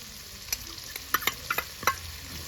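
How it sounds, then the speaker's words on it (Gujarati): Onions sautéing in a pan with cumin and garlic for pav bhaji, a quiet steady sizzle broken by several sharp spatula scrapes and clicks close by. "તો ડુંગળીને પણ હરખેથી છે ને સડવા દઈએ"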